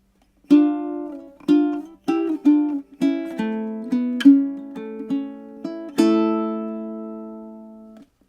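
A ukulele plucks single notes and small chords from a song in a slow, even pattern, ending on a ringing chord that fades out; close and clear, no voices.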